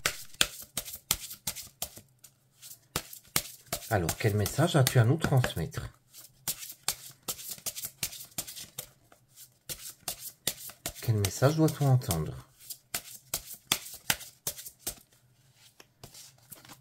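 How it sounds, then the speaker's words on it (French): Lenormand cards being shuffled by hand, a steady run of soft papery flicks and riffles with two louder, denser bursts, close up, while someone speaks over them. "je vais battre les cartes"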